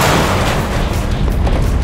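A firework cannon blasting during extreme car combat makes a loud, dense roaring boom that fills the whole stretch, heavy and close, with no clear talk over it.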